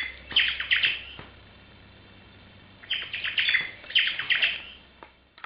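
A girl imitates the call of the omao, a Hawaiian thrush, with bright, rapid whistled chirps in two bursts separated by a quiet pause, close and clear.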